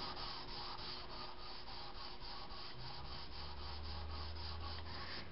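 A knife blade is hand-sanded with 150 grit sandpaper: a steady, close scratchy rasp in quick, even back-and-forth strokes that runs without a break and with no talking.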